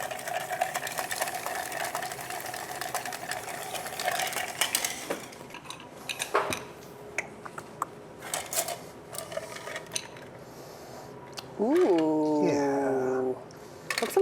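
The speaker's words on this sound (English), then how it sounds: "A spoon. I'm going to stir that one up." A spoon clinks and rattles against ice in a glass while a scotch cocktail is stirred, with short metallic taps and clatter, followed by a brief whirring tone near the end.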